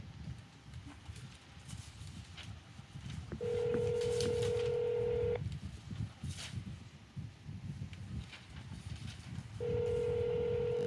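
A phone on speaker dials out to a UFO and Bigfoot hotline. Two long, loud pure tones ring out several seconds apart over a murmuring, noisy room background.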